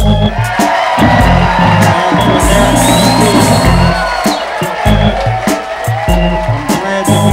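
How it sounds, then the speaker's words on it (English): A live club crowd whoops, shouts and cheers loudly and continuously for the Paradise Ladies at a 2001 Ernie K-Doe and Quintron show, with bursts of yelling over a dense wall of audience noise. "Let's give a round of applause to the Paradise Ladies"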